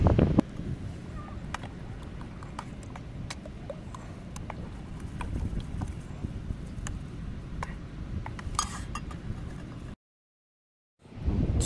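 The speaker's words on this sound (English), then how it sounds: "not too cold, a bit windy" Steady wind buffeting and rushing across the microphone beside an old German bunker, with low rumbling gusts and occasional faint ticks, cutting to silence near the end.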